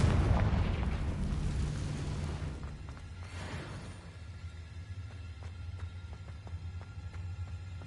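A Confringo fire spell in Hogwarts Legacy bursts with a loud, rumbling explosion that slowly decays into a low crackling, burning tail.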